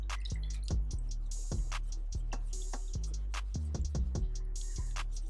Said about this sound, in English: I'm just lathering up my brush.